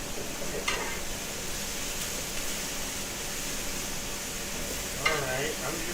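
Onions sizzling in a pan for patty melt burgers, a steady hissing fry with a couple of brief scraping stirs of a utensil, moderately loud and without talk.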